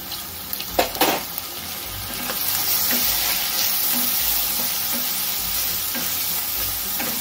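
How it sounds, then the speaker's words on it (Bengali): Chopped onion, ginger and green chillies fry in hot oil, a steady close sizzle with a few sharp utensil clicks and scrapes at the start. "এই সবকটা উপকরণই একটু ভাজা ভাজা করে নেব।"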